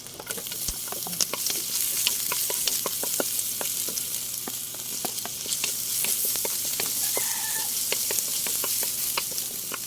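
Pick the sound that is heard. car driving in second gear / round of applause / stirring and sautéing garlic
stirring and sautéing garlic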